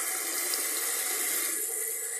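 A steady stream of water pours from a kitchen sink tap, hissing and splashing continuously at close range without pause.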